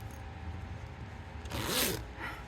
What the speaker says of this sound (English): but does it still zip?